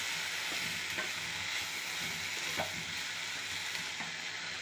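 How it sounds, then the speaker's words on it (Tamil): Coconut, cumin and curry leaves are stirred in a frying pan, giving a steady soft sizzle with occasional scraping clicks from the spoon, close and alone. "தேங்காய், சீரகம், கருவேப்பிலை போட்டு ஒரு கிளறி விட்டுறணும்"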